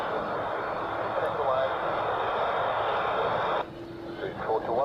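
A MyFreighter Boeing 767 freighter departing Zurich Airport produces a loud, steady jet engine roar that cuts off abruptly near the end, while someone talks over it.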